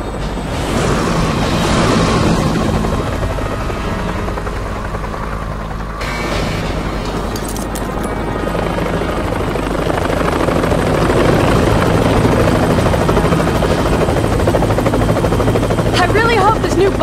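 A helicopter touches down in the video game Resident Evil Umbrella Chronicles, with a loud, continuous rotor drone and engine roar throughout and voices talking over it.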